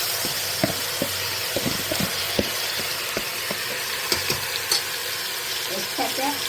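Mutton with spices and onion sizzles steadily in hot oil inside a pressure cooker, a continuous close frying hiss broken by scattered pops and a few clinks of stirring, with no talk over it.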